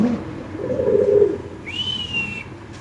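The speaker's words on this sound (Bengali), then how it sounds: "এই নরের ডাকটা একটু দেখাই দিই।" A male black Damascene pigeon gives one low, rolling coo close by, followed by a short, thin whistle-like tone against faint background noise.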